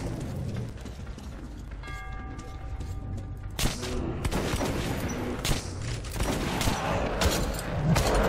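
Gunfire in the video game Metro 2033 Redux comes as bursts of sharp shots and thuds over a rumbling game background, getting louder and denser partway through.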